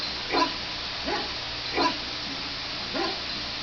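Big dog in the Dragon Age video game, giving four separate low woofs or barks spaced about a second apart, moderately loud over a faint steady background hum.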